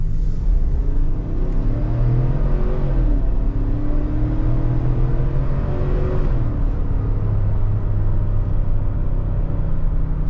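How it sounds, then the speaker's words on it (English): A 2025 Ford Expedition SUV with about 41,000 miles accelerates hard, its engine note rising in a loud, steady rumble from inside the cabin, with slight pitch shifts as it climbs through the revs. "It sounds freaking great. 25 Ford Expedition."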